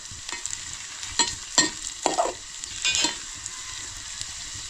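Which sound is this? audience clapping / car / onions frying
onions frying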